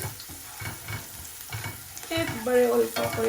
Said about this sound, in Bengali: আমার পেঁয়াজ ফ্রাই হয়ে গেছে আমি সামান্য লবণ দিলাম